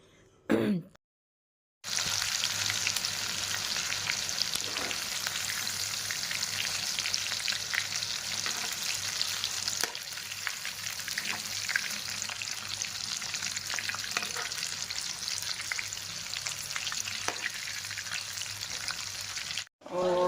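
Chicken roasting in a pan on a gas stove over low flame, seasoned with homemade spices: a steady, close sizzle with soft crackles and occasional stirring clicks, starting after a brief silence and cutting off at the end.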